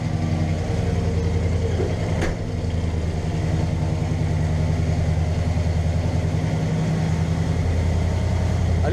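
A Chevrolet Chevelle's engine idles after being revved, a loud, close, continuous low rumble holding steady for nine seconds with no talk over it.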